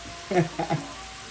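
Butter burger sizzling in a pan, a steady hiss under a brief spoken voice.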